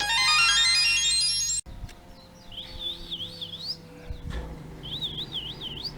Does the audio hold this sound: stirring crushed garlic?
no